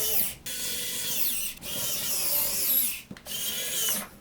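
A power driver spins 12mm screws into the hinges of a Voron V0.1 3D printer, three close whirring bursts separated by brief pauses.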